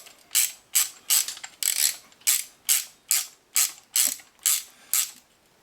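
A ratchet wrench clicks bolts snug during an S10 engine swap, about a dozen evenly spaced bursts of close, crisp ratcheting with no talk over them.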